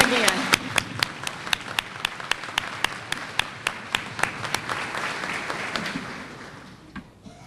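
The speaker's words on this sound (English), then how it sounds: "Applaud them again." An audience at a Peanut Fest queen's luncheon applauds, a steady round of clapping from a room of people with a few distinct sharp claps standing out, fading toward the end.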